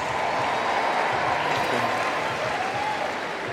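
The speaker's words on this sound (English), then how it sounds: "Please, a round of applause for the lovely and super talented Ashley" Circus audience applauding for a performer, a steady dense wash of clapping from a large crowd that carries evenly through the whole stretch, with faint murmurs mixed in.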